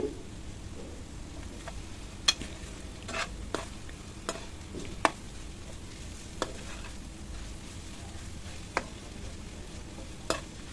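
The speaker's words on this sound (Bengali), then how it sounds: "বাজা বাজা করার সময় আমি সরিষার তেল দিয়ে এটাকে বেজে নিচ্ছি" Beef fries in mustard oil, a soft steady sizzle beneath regular clinks and scrapes of a spatula stirring the pan, with no voices.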